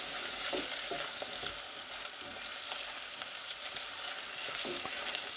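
Garlic sizzles steadily in a hot pan for the chorizo bread filling, with a dense hiss and scattered scraping taps as it is stirred around, close and fairly quiet.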